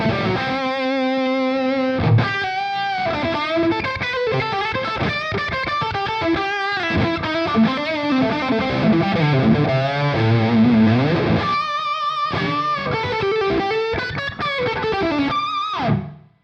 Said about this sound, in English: We have all this reverb built in.